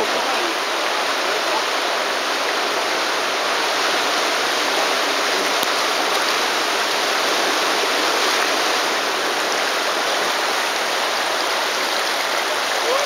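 River ice breakup on the Pärnu river, with rushing water and drifting ice producing a loud, steady broadband roar throughout, close and continuous.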